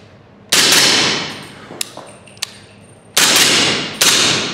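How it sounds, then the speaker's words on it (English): Suppressed SIG Rattler fixed-magazine rifle with a comp mag fired indoors in California: three loud, sharp bursts of gunfire with ringing decay, separated by a couple of faint metallic clicks. "So we're shooting the SIG Rattler."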